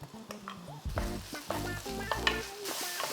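Shrimp and chopped green onion being stir-fried in oil in a frying pan, with a steady sizzle and repeated scraping and clattering of a utensil against the pan, close and fairly loud.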